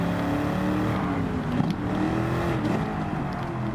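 A Bugatti Veyron engine races in the video game Gran Turismo 7, a continuous loud revving drone with slight pitch rises and dips over a few seconds, alongside other cars on the track; no talk.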